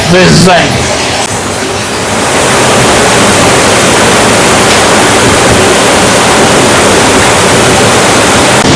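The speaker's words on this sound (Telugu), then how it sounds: "వాటర్ ఫాల్స్ దగ్గరికి అయితే వచ్చేసినాం" Loud, continuous roar of a nearby waterfall near Panyam, Kurnool, in summer, broad and unbroken rushing water, with a brief burst of other noise at the start.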